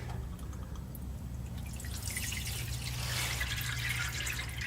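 Transmission fluid dripping and trickling into a catch pan beneath a car during a fluid, filter and gasket change, a close, steady patter of drips over a low continuous hum.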